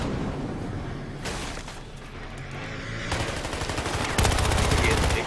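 Gunfire in the video game Battlefield Hardline, dense automatic bursts and rapid shots layered into a loud continuous barrage with heavy rumbling booms, intensifying toward the end.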